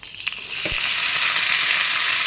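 Pirandai (adamant creeper) and tamarind drop into hot oil already holding sautéed onion and garlic, a few sharp clatters then a loud, dense, continuous sizzle up close.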